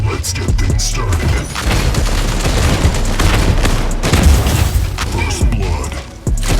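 Heavy gunfire and booming explosions in the mech combat video game Mech Arena form a loud, dense, continuous barrage of rapid shots and deep thuds for the whole stretch.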